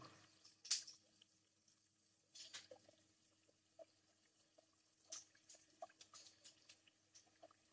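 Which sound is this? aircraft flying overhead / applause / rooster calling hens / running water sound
running water sound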